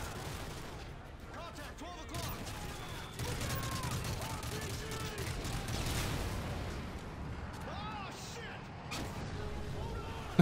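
Sustained gunfire crackles through a Modern Warfare 3 campaign battle, dense bursts and shots layered with combat noise and a voice talking over it.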